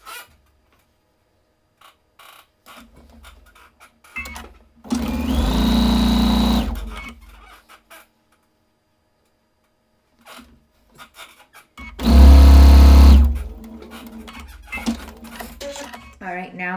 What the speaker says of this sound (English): We're going to go ahead and sew together the top row, sew together the bottom row